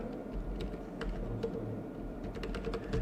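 Typing on a computer keyboard while entering field names into a database table, a steady run of light clicks and taps throughout, fairly quiet with low room hum underneath.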